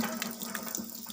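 Water gushing from a tube well pump spout at a village pond, a steady splashing stream close by with a low hum underneath, brief and alone.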